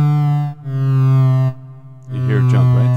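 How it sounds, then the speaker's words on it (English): A 1010music Blackbox synth tone steps abruptly between pitches as a square- or saw-shaped LFO modulates it, holding each level before jumping again, loud and steady with a grittier, busier stretch near the end. "this sounds like a jump that can only describe either a square wave or a saw wave"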